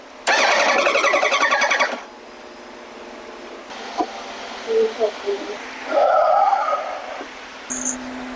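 A 2007 Yamaha R1 motorcycle engine with a rebuilt motor cranks in a loud, rapid burst at close range, then stops, followed by quieter clicks and mechanical noises.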